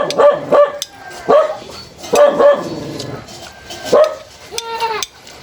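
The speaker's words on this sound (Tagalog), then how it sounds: "Ingay nung aso nang hihingi ng pagkain." A dog barks to beg for food in a rural provincial setting, letting out several loud, close bursts of barks and yips with short gaps between them.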